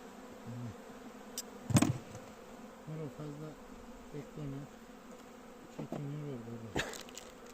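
Honey bees buzz steadily at a winter hive during an inspection, a quiet continuous drone with a few louder passing buzzes and brief knocks close by.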